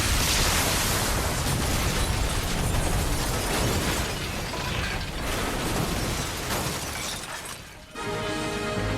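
A bomb explodes in the video game Star Fox Zero, giving a loud, dense roaring burst with crunching, mechanical debris noise that sustains for several seconds, dips briefly, then resumes with game sound.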